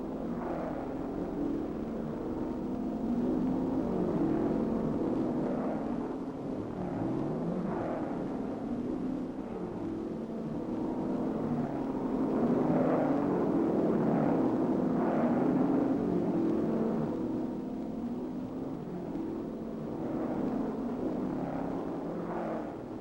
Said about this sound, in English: Here we're watching the Grand Tourism with 51 cars taking part.